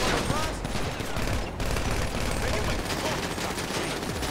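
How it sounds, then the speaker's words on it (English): Bursts of gunfire in the video game GTA 5 crackle densely and continuously during a firefight, loud and close, with a voice talking over the shooting. "I'm trying to shoot this guy through the tires."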